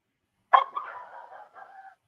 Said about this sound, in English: Yeah, I hear the dogs.